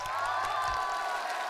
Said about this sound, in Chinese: 我们把掌声送给他们好不好